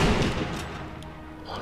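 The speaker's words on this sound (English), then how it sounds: "the Russians are still shooting me" A single heavy, booming gunshot from Russian soldiers in Sniper Elite V2, loud at first, then a rumbling tail that fades away.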